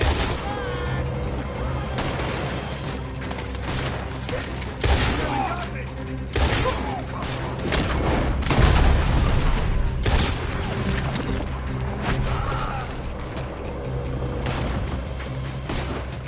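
Shootout gunfire in the video game Red Dead Redemption 2, dense bursts of shots and booms rolling on for the whole stretch, loud and close, with voices shouting over the battle.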